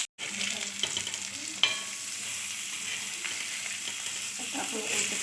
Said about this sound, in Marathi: 15 मिनटं एका साईडने तळायचे